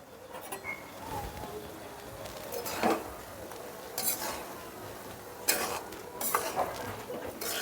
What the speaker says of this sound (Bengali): নারকেল আর গুড়টাকে পাক দিতে হবে